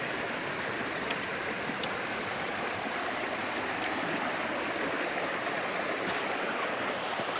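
A river flows over slate bedrock and gravel, producing a constant broadband rush of water that stays steady and fairly loud throughout, with a few faint clicks on top.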